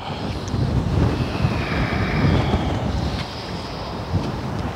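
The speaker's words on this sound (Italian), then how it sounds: "Senti il vento, stai attenta al vento." Wind gusting steadily across an outdoor microphone during an exercise session, a continuous rushing roar that swells and eases over a few seconds with no talk.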